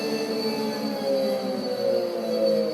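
A steady, droning mechanical hum from an out-of-phase motor vibrating against a table, with a rattling, buzzing vibration, loud and continuous with slight wavering in pitch.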